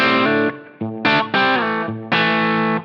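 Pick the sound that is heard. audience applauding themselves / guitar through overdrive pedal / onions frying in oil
guitar through overdrive pedal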